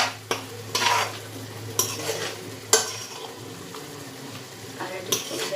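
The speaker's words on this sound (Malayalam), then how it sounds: "നന്നായിട്ടൊന്ന് ഇളക്കാം." Chili powder and black pepper stirred into a hot frying pan: a steady low sizzle with several sharp scrapes and knocks of a utensil against the pan, spaced irregularly, close and fairly loud, no voices.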